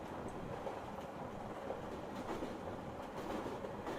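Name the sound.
moving train clickety-clack in a video game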